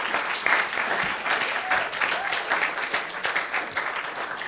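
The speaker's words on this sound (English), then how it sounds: "Shall we give another round of applause to Ruth?" A congregation at a church service gives a round of applause, steady mid-level clapping from a roomful of people continuing for several seconds without speech over it.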